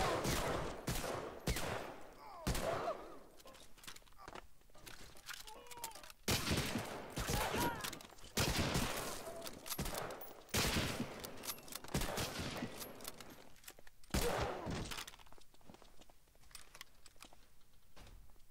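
Repeated bursts of gunfire from the World War II shooter game Medal of Honor Allied Assault in multiplayer, with loud, sharp volleys and rapid automatic fire coming in uneven clusters.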